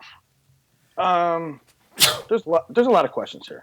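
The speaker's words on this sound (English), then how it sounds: "It's called a sneeze." A single abrupt sneeze from a man on a live wrestling radio show, quickly followed by conversational speech.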